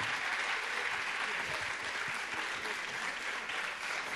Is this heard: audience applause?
yes